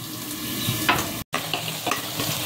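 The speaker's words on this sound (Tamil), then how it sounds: "இந்த அளவு நல்லா வதக்கி விடலாம்" Semiya and rava sauté in a pan with tomato, a steady close sizzle under brisk stirring, broken by a brief gap of silence midway.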